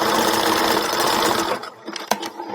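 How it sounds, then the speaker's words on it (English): A sewing machine zigzag-stitches stretchy elastic on lace straps, running in a fast, steady whir for about a second and a half before stopping, then a few brief mechanical clicks and knocks as the fabric is handled. "I'm going to sew it down. I'm going to do the zigzag because it stretches."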